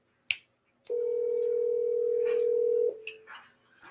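Phone call being placed: a click, then a sustained steady tone lasting about two seconds, followed by a few faint clicks and soft noises, close and clear with no talking.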